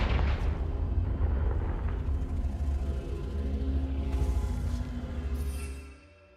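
Confringo spell explosion in Hogwarts Legacy, a fiery blast that hits with a loud burst and then rumbles on with a deep, roaring low end for several seconds before cutting off abruptly.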